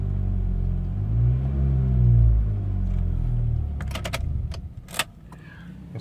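A 2003 Honda Accord idles with a steady low engine rumble close by, then a cluster of sharp key jangles and clicks rings out over the running motor.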